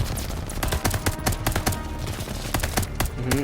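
Rapid automatic gunfire from a gun in the video game Call of Duty: Vanguard crackles in loud, closely spaced bursts for the whole stretch, with no talking.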